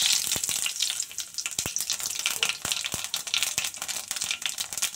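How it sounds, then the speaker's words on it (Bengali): Bay leaf and cumin seeds crackle and sizzle in hot oil, sharp popping bursts scattered over a bright, hissing spatter that stays busy throughout. "তেলটা গরম হয়ে গেছে, এবার তেলে তেজপাতা আর জিরে ফোড়ন দিলাম।"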